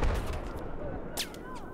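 Gunfire in the video game Battlefield 4 during a multiplayer Conquest match, with a sharp single shot cracking out near the middle amid a dense, rumbling battlefield din.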